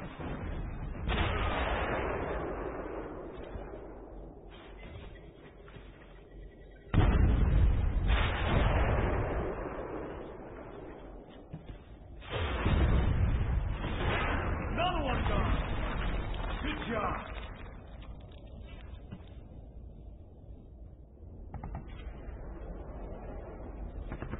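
Explosions tearing apart a mortar in the PC shooter Inversion, a series of heavy booms and blasts arriving in waves between quieter stretches, with voices speaking over parts of the action.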